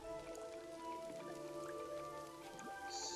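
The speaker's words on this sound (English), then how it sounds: "It's starting to rain." Rain falls in the video game Genshin Impact, a soft steady patter of drops on surfaces beneath sustained tonal game music, with no talk.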